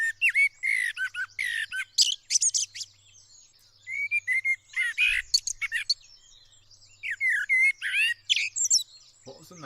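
A recording of a parrot plays, giving bursts of harsh squawks, chirps and whistled calls in quick irregular clusters separated by short silences, loud and close with no talking.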